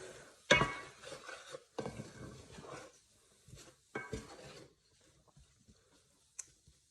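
A spoon scrapes and clinks against a pot while chili powder, oregano and cumin are stirred in, giving a few sharp knocks followed by softer, scattered scraping that fades out.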